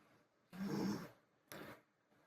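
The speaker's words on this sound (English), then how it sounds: "I don't think I can edit out the snoring when I'm doing voiceovers" Two breathy snores, a longer rumbling one followed by a shorter one a second later, fairly quiet and close with near silence between.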